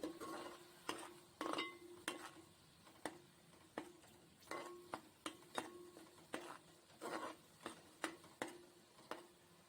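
Onions sizzling in a pan for fish curry, with a soft frying hiss under regular metallic scrapes and taps of a spoon stirring against the pan, close and fairly quiet.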